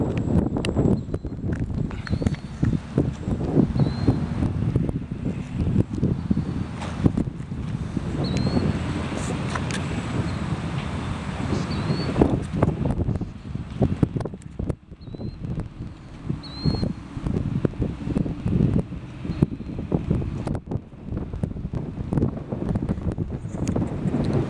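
Wind blows outdoors at a model airfield, a continuous rough rushing and buffeting across the microphone with faint, brief chirps scattered through it.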